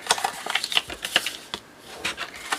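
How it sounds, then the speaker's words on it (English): Thick paper being burnished along a fold with a tool, producing a run of short, sharp scraping and tapping strokes in an irregular rhythm, close up with no voices. "I'm just going to burnish this fold as well."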